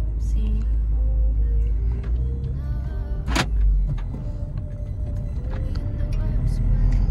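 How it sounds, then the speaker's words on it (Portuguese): Chevrolet Astra 140cv car driving, with a steady low engine and road rumble throughout and a brief sharp mechanical noise near the middle, under a couple talking inside the cabin. "E o Astra, ele é bem fácil de dirigir"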